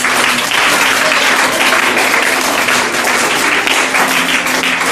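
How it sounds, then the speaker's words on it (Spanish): Strong applause from the audience at a bookshop author event, a dense, loud, continuous clapping that fills the whole stretch without a break. "Un aplauso muy fuerte para vosotros."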